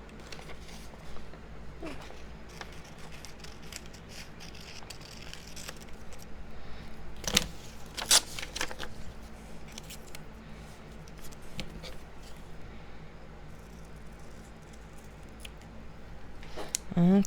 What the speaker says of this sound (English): I'm going to kind of do it in a little twisty motion with the scissors so that it's not perfectly straight cuts.